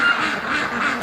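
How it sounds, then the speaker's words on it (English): Muscovy duck quacking close by in a steady run of harsh calls that fill the whole second, with no talk over them. "another Muscovy just flew away"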